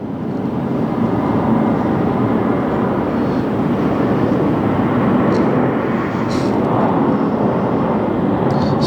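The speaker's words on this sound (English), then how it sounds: "So we'll get what we can of this aircraft" A jet airliner passes overhead at LAX with a steady, loud, broad roar that holds for the whole stretch, with no talk over it.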